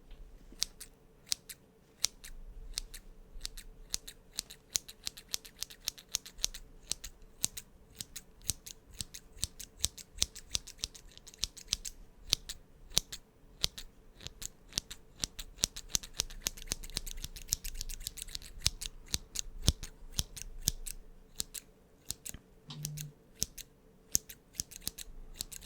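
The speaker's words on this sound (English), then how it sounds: "Up next is a pair of scissors." A pair of scissors snips steadily in a quiet close-up setting, crisp rapid blade clicks repeating for a long stretch with no voices.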